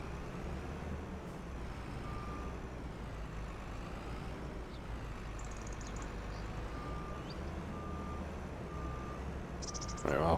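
A truck backing a trailer in Farming Simulator 25 gives off steady intermittent reversing beeps over a constant low engine drone, with a brief louder clatter at the very end.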